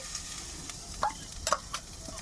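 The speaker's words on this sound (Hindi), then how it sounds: "फिर उसके बाद में हमने जो ये प्याज चॉप करी थी वो डाल देंगे" Chopped onions tipped into hot oil for chicken malai kabab and stirred: a soft sizzle bed with a few quick scraping, stirring clatters near the pan, fairly quiet and without speech.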